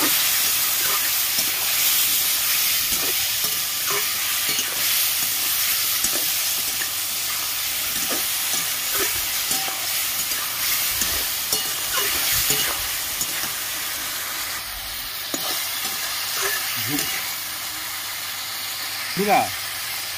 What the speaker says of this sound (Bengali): আদা জিরে বাটা দিয়ে দিচ্ছি। সামান্য একটু জল দিয়ে দিচ্ছি। ভালো করে কষিয়ে নেব।